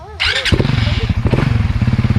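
Motorcycle engine cranking and catching, then settling into a loud, close, rhythmic idle putter, with a brief voice at the very start.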